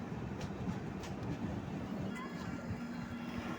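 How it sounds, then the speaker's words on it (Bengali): The Bamanhat to Sealdah express stands at a railway station, giving a steady close rumble and low hum with faint clatter, under what may be muffled voices in the background. "ট্রেনটা আসছে বামনহাট থেকে, যাবে শিয়ালদা স্টেশন।"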